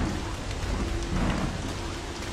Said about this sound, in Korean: 비가 오고 있어서 지금 낮인데 되게 어둡죠.